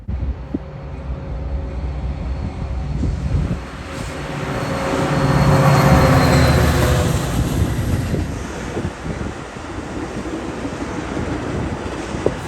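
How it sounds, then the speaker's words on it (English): A Metra passenger train led by an F40PH-3 locomotive passes near the tracks, a loud broad rumble that swells to a peak midway and then eases off, with wind buffeting the microphone throughout. "our first train showed up and it was a Metra"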